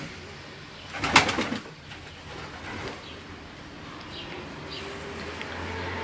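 Pigeons kept on a home balcony coo softly and steadily in the background, with one sharp, brief noise near the start standing out above the low murmur.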